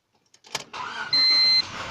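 A 1998 Honda VTEC car that will not start normally cranks briefly and catches, settling into a steady idle nearby, with a thin whine overlaid for a moment; no talking.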